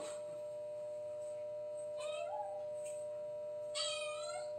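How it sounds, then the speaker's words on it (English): A cat meows a few times in short, close calls spaced over a few seconds, over a faint steady electronic hum. "Please stop meowing."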